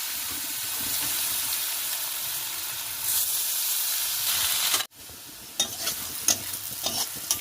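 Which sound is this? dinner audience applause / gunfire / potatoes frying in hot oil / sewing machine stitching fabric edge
potatoes frying in hot oil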